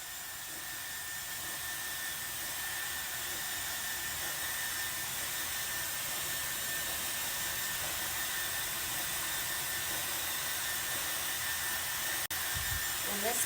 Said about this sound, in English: I'm gonna go ahead and get started blowing out my hair